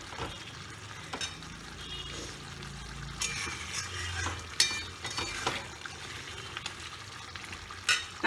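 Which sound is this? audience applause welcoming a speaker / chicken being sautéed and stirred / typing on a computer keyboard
chicken being sautéed and stirred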